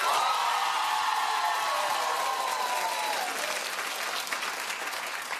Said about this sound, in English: Clap if you think Adele will win.